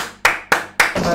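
Three sharp, close hand claps ring out in an even rhythm during a PUBG Mobile live stream, each a crisp smack that fades before the next.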